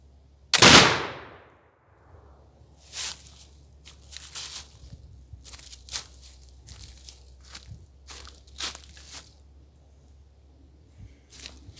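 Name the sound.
squirrel rifle gunshot with home-cast bullet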